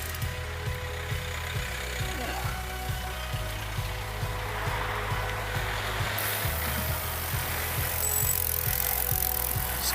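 A bicycle ridden along a sunny road on a virtual cycling ride, with steady rhythmic clicking and rolling drivetrain noise under a broad wind rush that grows stronger near the end.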